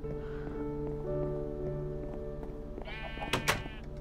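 Sheep in the Minecraft modpack Sky Factory 2 bleat several times, wavering tonal calls at moderate distance, with a sharper, louder burst of bleats near the end and no speech.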